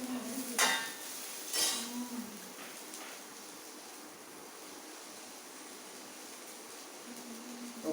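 Onions with salt stirred in a cooking pot for chicken curry, giving two short scraping clatters early on, then a steady soft sizzle and hiss that runs on alone with a faint hum underneath.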